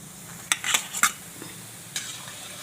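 Puffed rice vadi fry in hot oil with a faint, steady sizzle, broken by a few sharp clinks and scrapes of a utensil stirring in the pan.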